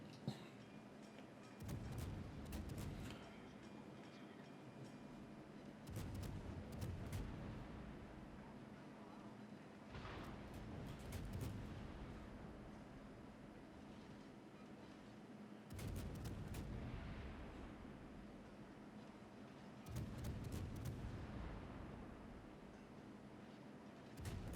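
Heavy naval gunfire in World of Warships, the Smolensk cruiser trading shots with the battleship Kremlin: broad booming salvos roughly every four to five seconds over a constant ocean and engine rumble, with no talk.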